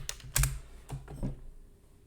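A computer keyboard being typed on to enter a sudo password, giving a few distinct close key clicks with short gaps and a heavier keystroke near the start.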